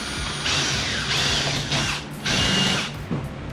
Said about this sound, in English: Then go ahead and drill that in.